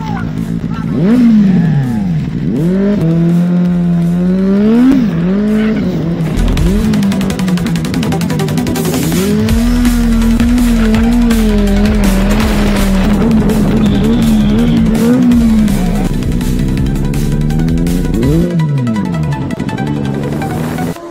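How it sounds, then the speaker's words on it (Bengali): A Benelli 600i motorcycle, still wet from rain, revs and rides loud and close on the road between Diamond Harbour and Bakkhali. The inline-four engine sweeps up and down in pitch, then settles into a sustained cruising drone. "Benelli 600i।"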